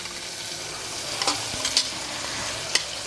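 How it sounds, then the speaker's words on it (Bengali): Butter dropped into beef teriyaki frying in a pan, a constant close sizzle with a few sharp crackles and scraping stir strokes scattered through, no voices. "বাটার দিয়ে দিচ্ছি 1 টেবিল চামচ পরিমাণ।"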